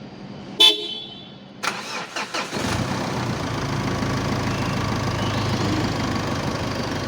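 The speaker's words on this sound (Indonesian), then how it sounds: "kalau didengarkan juga ini terasa stasionernya lebih stabil, kemudian suaranya juga lebih enak karena injektornya sudah diperbaiki" Mitsubishi Pajero Sport engine after a fuel-leak injector repair: a short sharp horn-like chirp, a few starter cranks, then the engine catches and settles into a steady, even idle that runs to the end.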